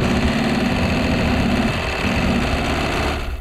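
A car engine running with no oil is revved while the brakes are held, giving a loud, steady, buzzing drone with a rattling, knocking edge that holds close throughout.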